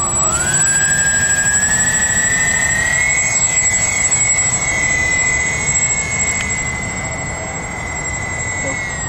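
Model Canadair CL415 airplane on its maiden flight, a loud continuous electric whine that climbs in pitch and then holds steady, close by, with voices talking over it outdoors.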